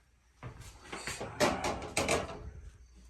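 A small door on a tiny outbuilding opens and closes with a few close wooden knocks, scrapes and rattles over about three seconds, with no talking.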